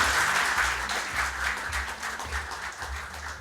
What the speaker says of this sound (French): Sous vos chaleureux applaudissements.